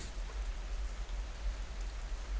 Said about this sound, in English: the rain returns to a soft, persistent hiss as it meets the short-cropped grass